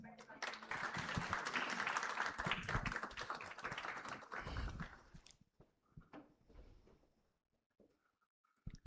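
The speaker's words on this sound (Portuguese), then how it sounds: "Muito bem, acho que esse momento é digno de uma salva de palmas." Audience applause at the launch of a regional sector report in Paraná fills the room with dense clapping for several seconds, then thins to scattered claps and quiet with a few stray knocks.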